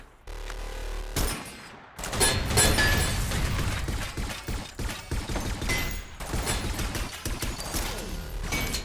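Overclocked rifle firing in a video game, loud rapid bursts of gunfire with sharp cracks and mechanical clatter, filling most of the stretch after a short gap.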